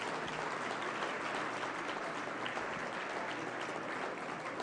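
An audience at an award reception gives honorees a sustained, dense round of applause, a steady wash of clapping holding at an even level throughout with no voices standing out.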